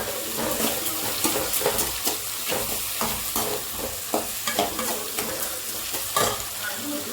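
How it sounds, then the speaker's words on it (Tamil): Tomatoes sauté in a pan for a ridge gourd masiyal, producing a continuous close sizzle broken by repeated scraping and stirring strokes of a spoon. "நல்லா தக்காளி போட்டு நல்லா வதக்கிடலாம்."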